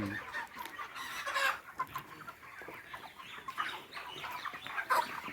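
A crowd of 35-day-old broiler chickens clucking all at once, a dense, restless chatter of overlapping calls filling a poultry shed.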